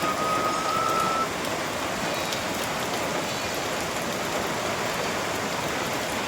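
Rain falls steadily, heard from under a tin roof, as a dense, even patter that continues for the whole stretch with no voices.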